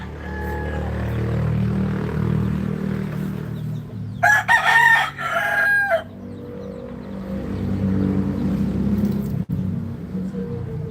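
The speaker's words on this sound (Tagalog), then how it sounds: "wala na palang pampakain tong mga manok ni Baby." A rooster crows loudly nearby, one long strained call over a low steady rumble, with a few faint clucks around it.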